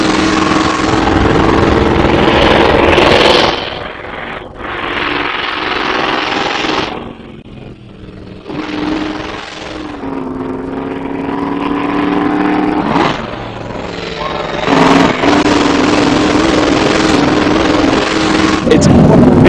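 Privately owned historic Alfa Romeo racing car at Goodwood, its engine loud and close for the whole stretch, revving up and easing off in waves with sharp throttle blips and rising pitch sweeps, alone without any voice.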